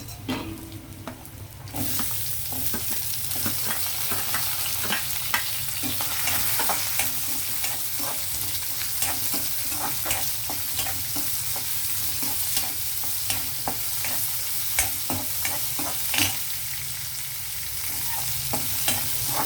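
Onions frying and stirred in a pan for an amaranth-leaf and potato stir-fry, a steady broadband sizzle running throughout with repeated scraping clicks of the spoon against the pan, close and alone with no talk.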